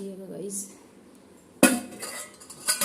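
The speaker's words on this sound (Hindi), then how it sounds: "और ये बर्तन इधर उधर है, इसको पूरा जमाना है" Metal kitchen utensils and pots being arranged in a home kitchen during cleaning: faint clinks at first, then a sharp loud clatter of cutlery and pans followed by further scattered clinks nearby.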